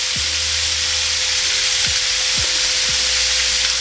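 Bacon sizzles on a NuWave Jubilee smokeless indoor grill, a steady dense crackle close up with a few low knocks and a faint tonal hum underneath, no voices.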